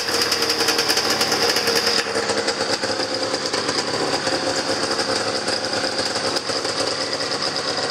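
An old twin-cylinder snowmobile engine runs on both cylinders after new spark plugs were fitted, a close, loud rapid rattling drone with a high buzzing edge that steadies after the first couple of seconds, with no talking.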